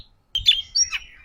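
An oriental magpie-robin (kacer) gives a few quick, bright chirps close by, two short bursts of sharp whistled notes in quiet surroundings.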